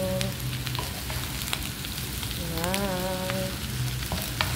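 Cooked rice is fried and stirred in a pan, giving a continuous sizzle with scattered scraping clicks, while a voice briefly speaks over it.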